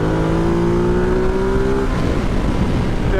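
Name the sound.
Ducati Multistrada motorcycle engine accelerating while overtaking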